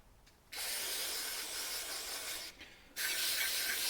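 Carb cleaner sprayed onto Goldwing GL1500 carburetors, two long, loud, close hissing bursts separated by a brief pause, with no talking.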